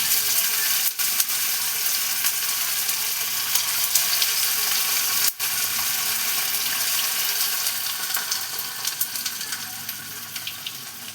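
Fish chops sliding into hot white oil in a wok, a steady hissing sizzle with a couple of sharp clicks, close and continuous, growing slightly more crackly toward the end, with no voices.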